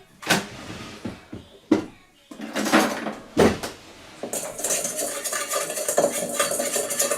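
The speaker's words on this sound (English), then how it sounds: "So yeah, you're going to kind of give that just a little stir." A seasoned mixture for cheesy asparagus stuffed chicken is stirred in a bowl, with irregular clinks and scrapes of a utensil against the dish, close by and without talk, settling into a steadier scraping whisk.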